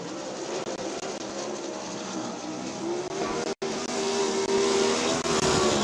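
A sprint car lapping Eldora Speedway during time trials, a fairly faint engine roar carried from a distance that swells toward the end as the car comes around.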